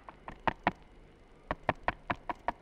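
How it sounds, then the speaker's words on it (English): Sharp knocks rap on the windscreen of a fast-flying airplane: a group of four, a short pause, then a steadier run of seven, crisp and close. "There's a peculiar knocking sound on the windscreen."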